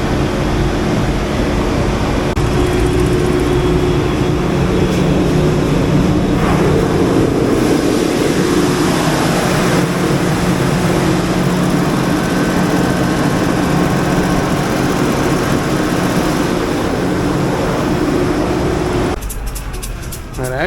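A 750 kW generator set runs loudly under load from a load bank, giving a steady, droning engine roar with a constant low hum close by. Near the end a brief rattling burst cuts in and no one speaks.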